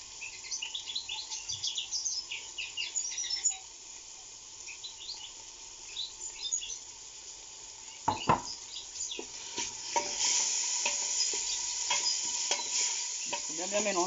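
Lentils, chickpeas and fenugreek being stirred in a pot for Moroccan harira over medium heat, with soft scraping and sizzling throughout and sharper clinks of the spoon against the pot later on.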